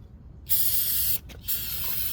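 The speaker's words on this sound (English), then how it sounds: "Now I'm going to take some brake cleaner and just spray it around the back up here and everything." Brake cleaner sprays in a loud, close hiss onto a trailer brake backing plate, two bursts separated by a brief break, with no talking.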